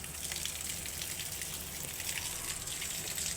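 Water splashing and pattering steadily onto potted plants on a rooftop, a continuous soft gushing spray at moderate distance with no talk.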